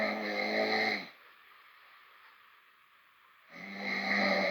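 A man snores loudly in his sleep at 2 a.m., two long, harsh, rasping snores close by, split by a quiet pause of breath.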